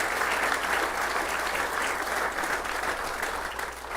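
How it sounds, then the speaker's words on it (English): Steady applause from a large crowd at an outdoor soccer stadium topping-off ceremony in Rhode Island, held at an even level for the whole stretch with no break. "Please give them a round of applause because they're truly in this together."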